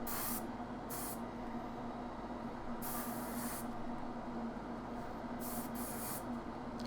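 Aerosol spray coats going onto a Knight Armiger model: several short, loud hissing bursts separated by pauses, over a steady low background hum.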